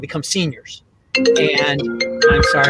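A mobile phone ringing during a boys' basketball season preview, a loud melodic ringtone that starts after a man's speech and keeps ringing close by, with his talk at the start.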